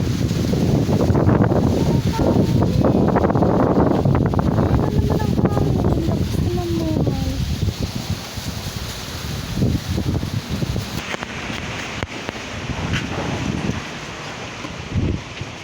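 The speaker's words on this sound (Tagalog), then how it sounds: "Ang hangin talaga." Strong gusts roar steadily through garden plants, with leaves rustling and loud wind buffeting the microphone throughout.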